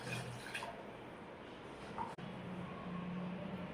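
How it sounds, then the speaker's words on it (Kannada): Water pours steadily into a cooking pot of amaranth greens curry, a soft continuous rushing splash at low volume with no talking. "ನೀರು ಹಾಕ್ತಾ ಇದ್ದೀನಿ."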